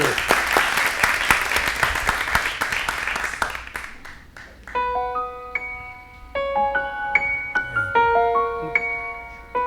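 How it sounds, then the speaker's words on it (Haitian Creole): Studio audience applause on a French talk show, a loud sustained round of clapping that fades after a few seconds as a melodic chime-like tune takes over. "Mes chers amis, je vous applaudis encore une fois de plus."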